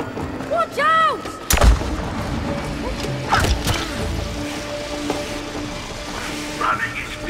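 Cannon fire in the video game It Takes Two, with a heavy booming blast and following thuds and mechanical clanks amid game effects, while voices speak over the action.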